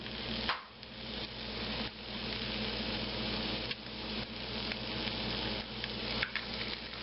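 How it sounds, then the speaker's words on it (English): An egg frying in a hot pan sizzles steadily and loudly, a dense continuous crackle with occasional brief bursts and stirring scrapes, no voices over it. "time to add an egg to it"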